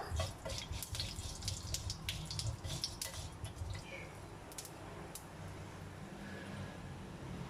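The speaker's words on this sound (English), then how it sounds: "We wait for this to splatter." Mustard seeds splatter in a hot pan, a rapid crackle of sharp pops and sizzle that is busiest early on, then thins to scattered spits over a steady frying hiss.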